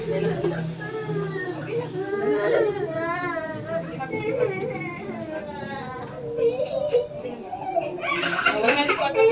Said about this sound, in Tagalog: Grabe na yung iyak ng mga pangga